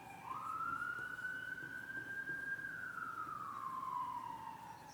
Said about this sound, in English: We live right near a main road and about 5 minutes walk from the hospital, so we do get sirens